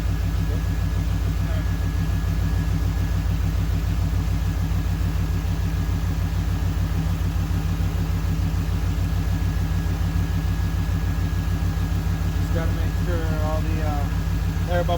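Engine of an 89-95 Chevy 1500 pickup idling while warming up after a thermostat change, a steady low rumble running throughout, with a faint bubbling or gurgling near the end.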